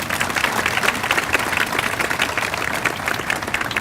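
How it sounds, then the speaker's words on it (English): A crowd at a peace officers memorial run event gives another round of applause, loud and sustained dense clapping throughout with no speech over it. "join me in giving them another round of applause"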